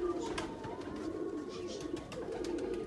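A Teddy pigeon breeder pair coos softly and repeatedly, a low murmuring call carrying through faint background noise.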